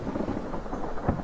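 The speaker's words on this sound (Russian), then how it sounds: "Молния долбит." Thunder from a lightning strike in the video game DayZ, a rolling low rumble with rain hiss throughout a short, moderately loud stretch.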